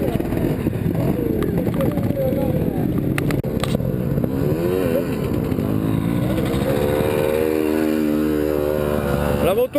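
A trial motorcycle engine revs and drones loudly nearby at a vintage trial riding day, pitch rising and settling, with people talking over it.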